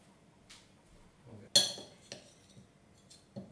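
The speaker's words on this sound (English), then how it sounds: "you're just going to use a spoon and you're just going to mix it until it all combines" A spoon mixes an almond meal quiche base in a bowl, giving faint scraping with a few sharp clinks against the bowl, the loudest near the middle, then a couple of lighter taps.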